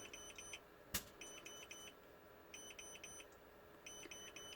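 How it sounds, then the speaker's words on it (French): A car tire pressure monitor alarm gives faint, high electronic beeping in short repeated bursts of quick pulses against a quiet background, with one sharp click partway through. "L'alarme s'est mise en route."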